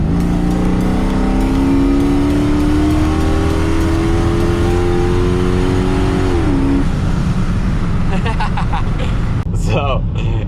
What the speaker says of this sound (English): The blow-off valve sounds pretty good.